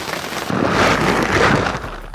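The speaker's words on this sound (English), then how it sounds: "And it's raining." Rain pours steadily over a ground blind during an outdoor hunt, a loud, dense hiss of drops that swells and holds throughout, with no voices.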